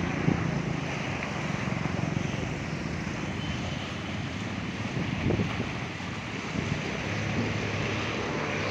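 Water rushing from the gates of a full dam, a dense continuous roar heard from a distance, steady and fairly loud with wind noise mixed in.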